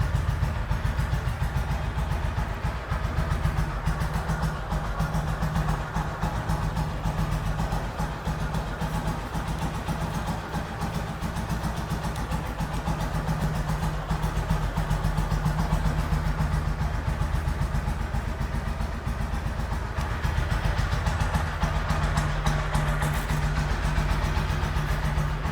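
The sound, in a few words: motorcycle engine idling, single-cylinder bike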